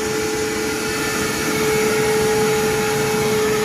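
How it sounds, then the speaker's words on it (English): Blown attic insulation rushes through a blower hose fed from a hopper, making a steady, loud whooshing drone with a constant tonal hum and no talk. "You can see the insulation going through the hose."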